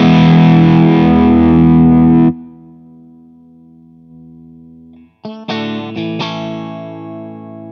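Electric guitar through a Source Audio L.A. Lady overdrive pedal, starting with a loud sustained chord that is cut off. A quiet hum follows, then several sharp plucked notes ring out. The tone is close and driven, with a faint background noise underneath.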